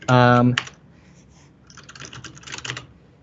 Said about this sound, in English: Sorry, I'm just typing here.